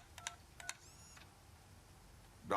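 Phone dialing in the video game Robocop Rogue City: a few quiet, short tones with small gaps between them, then a brief ringing tone. A louder click lands right at the end.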